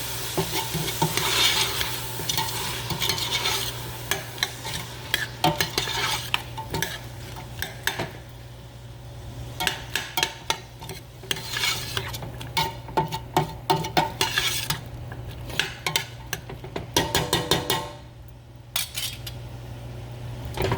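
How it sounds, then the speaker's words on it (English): Green bell pepper and other vegetables sauté in leftover seasoning for a Cajun chicken, sausage and shrimp pasta, a constant close sizzle broken by repeated clinks and scrapes of a utensil stirring against the pan. "green bell pepper in there as well. I'm going to just saute that up"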